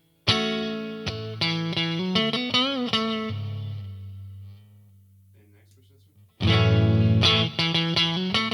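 Fender Deluxe Roadhouse Strat played on the neck pickup, a run of picked notes and bends ringing into a low sustained note that fades, then a loud strummed chord returns, close and clear.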